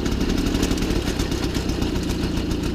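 A 1993 MBK 51 Salsa moped engine runs steadily with the throttle held slightly open, a close, continuous buzzing drone with a faint rattling clatter and no pauses.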